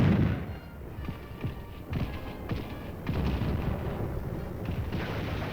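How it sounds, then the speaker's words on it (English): Artillery gun and machine gun fire in a European battlefield setting: repeated dull booms and rough, crackling bursts of gunfire, fairly distant and muffled, with a steady rumble between the shots. "A cavernous gun whirls an explosive shell through the skies. A machine gun blasts away."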